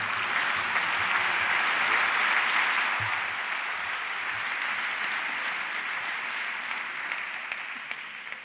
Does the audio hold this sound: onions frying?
no